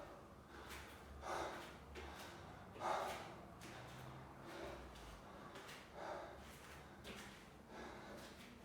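Heavy breathing during an Achilles tendinopathy rehab exercise session: a series of rhythmic, fairly close breaths and puffs about every one to two seconds, with no talk over them.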